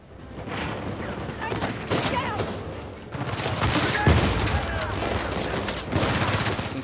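Dense gunfire from Uncharted 4: A Thief's End runs without a break: rapid volleys of shots with booming impacts, loud and close, and voices speak over the fight.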